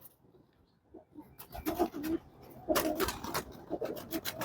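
Pigeons in a loft cooing softly in short repeated calls, faint at first and then rising into a steadier series of low coos, heard up close.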